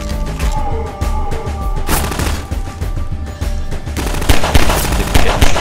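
Loud, dense gunfire in the video game Half-Life 2, rapid automatic bursts with booming impacts continuing throughout the stretch with no voice over it.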